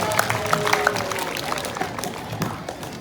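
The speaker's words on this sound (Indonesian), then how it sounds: "Sekali lagi tepuk tangan kepada calon Ketua OSIM MSN 1 Aceh Timur." A school audience at a student council candidate debate at MTsN 1 Aceh Timur applauds the candidates, with scattered clapping and crowd noise and a few sharp claps standing out near the start.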